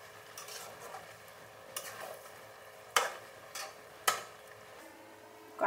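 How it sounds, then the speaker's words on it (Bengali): Chicken kosha masala gently stirred in a pan, a few soft scrapes and sharper metallic taps of a spoon against the pan over a faint background hiss, near and without talk. "হালকা হাতে নাড়াচাড়া দিয়ে নিই"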